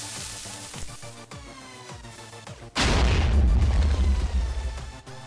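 A Minecraft redstone cannon fires, giving a sudden loud, sustained booming burst with a heavy low rumble that cuts in after a stretch of quieter ticking and clicking game sounds.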